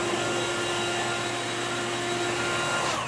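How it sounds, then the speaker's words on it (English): A sawmill flat sawing a log into lumber for kitchen cabinet stock, a steady droning whine with a constant tonal hum under broad noise, holding even for about three seconds with no speech. "Now we flat saw this"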